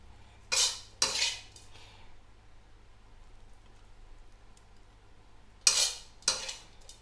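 A metal spoon scrapes and clinks against a pan and plate while hot stir-fried minced pork with holy basil and long beans is served. There are two short pairs of scraping bursts with quiet gaps between them.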